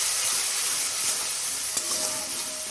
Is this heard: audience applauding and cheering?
no